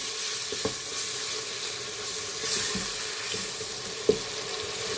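Spices, including Kashmiri red chili, sizzle steadily in oil in a pan during tarka for chana masoor dal, with a broad continuous hiss and a few faint utensil taps, one sharper clink near the end.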